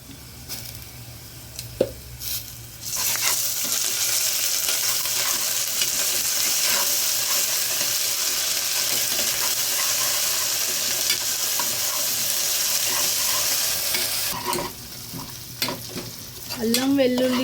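Ginger garlic paste hits hot oil in a frying pan and sizzles loudly for several seconds as it is stirred, a dense continuous hiss with scraping, easing off near the end.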